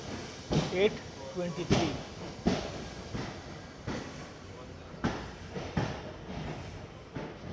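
A train leaves Subrahmanya Road station on the monsoon route to Mangalore via Sakleshpur, giving repeated rhythmic clacks and rattles of wheels over rail joints, while someone speaks over the noise.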